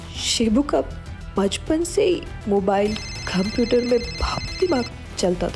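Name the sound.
mobile phone ringing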